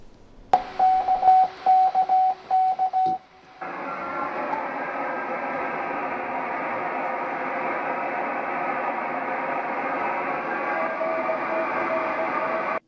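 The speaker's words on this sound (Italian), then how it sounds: "Il suono inconfondibile del codice Morse trasmesso e poi ricevuto dalla Luna." Morse code radio signal received back from the Moon by amateur radio operators: a short run of clipped tonal beeps, then a long steady band of radio static and hiss filling the rest.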